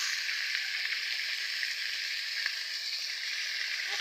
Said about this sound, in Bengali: মাছ ভাজছি, মাছ ভাজা হয়ে গিয়েছে। মাথাটাকে ভালো করে ভেজে নেব।